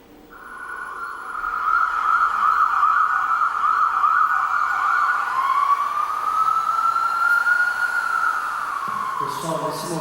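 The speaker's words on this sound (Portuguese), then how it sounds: "a gente tem um somzinho de sirene?" An ambulance siren wails loudly, first in a rapid warbling yelp, then shifting into a slow rising and falling wail.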